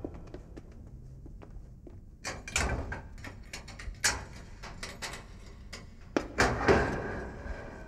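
A prison ward door opens with a run of metallic clanks, scrapes and latch knocks, loudest near the middle and end, close by with no talk over it.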